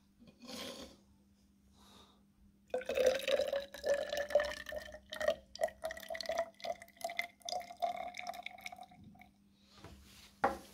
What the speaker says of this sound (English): I'm going to start off by putting 30 centimeters cubed of water into the measuring cylinder.